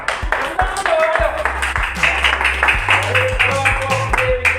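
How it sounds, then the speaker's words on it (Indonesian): A classroom of students claps for a group that has just finished its work, with scattered, uneven hand claps close by, mixed with children's chatter and a few shouts over several seconds. "Kita tepuk tangan dulu. Tepuk tangan dulu. Ayo."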